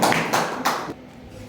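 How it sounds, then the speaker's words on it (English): Brief applause at an in-house teacher training session, a few bursts of claps close by that fade out within about a second, with no voices over them. "Please give a round of applause for Mr."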